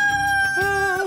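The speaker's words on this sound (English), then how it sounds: "We're going to call him Rock the stud rooster." A stud rooster named Rock crows once, close and loud, in a single drawn-out, strongly tonal call that rises and then holds for about a second.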